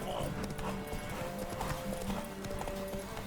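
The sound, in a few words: horse galloping hooves in video game The Witcher 3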